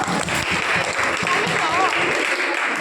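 Church congregation clapping for the cook who prepared the communion meal, a moderate patter of hands mixed with voices talking over it, fading near the end.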